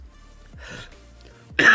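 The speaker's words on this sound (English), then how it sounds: "It made me laugh so hard I had to cough" A single burst of coughing follows a fit of laughter, loud and close near the end after quieter breathy sounds.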